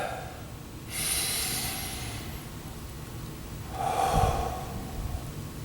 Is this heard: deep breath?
yes